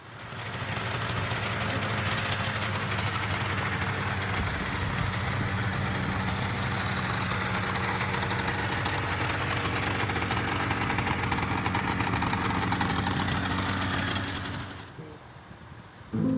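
A vintage twin-cylinder road-racing motorcycle engine idles steadily and close up, a continuous low rumble with a fast even beat that holds for the whole stretch before cutting off near the end.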